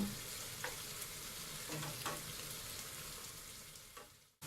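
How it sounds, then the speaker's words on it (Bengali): Sweet pumpkin pieces lightly frying in oil, a quiet steady sizzle with a few faint spatula taps before cutting off abruptly at the end. "এখন আমি এই তেলেই মিষ্টি কুমড়াগুলো হালকা ভেজে নেব।"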